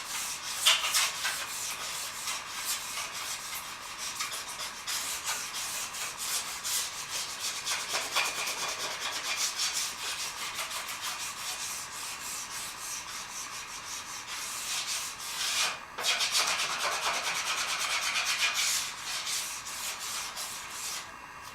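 Paraffin wax being scraped off a ski with a scraper, a long continuous run of close, dry scratching strokes, fairly quiet and steady, with no voices.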